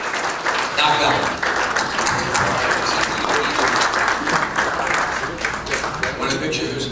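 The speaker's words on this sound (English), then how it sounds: "Would you please give a nice round of applause to Doc Donald Ballard" An audience applauds Doc Donald Ballard at an evening event, a dense, steady wash of many hands clapping that fills the space and holds loud from start to finish, with voices mixed in beneath.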